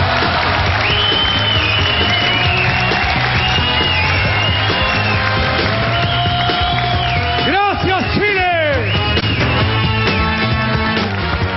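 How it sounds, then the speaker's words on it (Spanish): A live comedy audience applauds and cheers for comedian Oscar Gangas, loud continuous clapping with whoops and shouts filling the room throughout. "Gracias por ese aplauso cariñoso."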